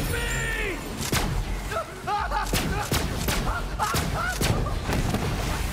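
Thuds and booms from explosions in the video game Borderlands 3, several sharp broadband hits spread across the clip over busy game sounds, with some voice-like sounds in the mix.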